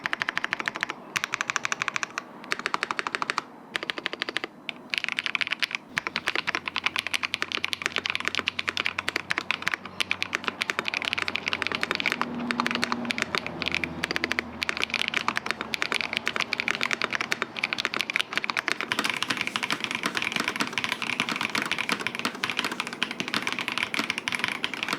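Continuous typing on a Logitech Alto Keys K98M keyboard produces rapid, close, deep key clacks in an unbroken rhythm with a few brief pauses and no talking.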